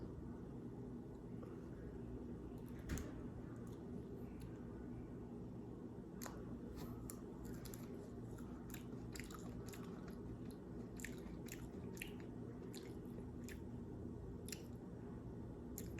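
Jackfruit being peeled and eaten up close, with faint soft squishy bites and chewing sounds scattered over a steady low room hum, no talking.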